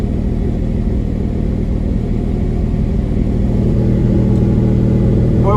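A 1999 Lamborghini Diablo Roadster engine idles at around 1500 RPM, a loud, steady, deep rumble heard up close with no talking.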